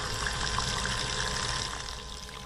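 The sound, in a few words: small bilge pump on car battery pumping water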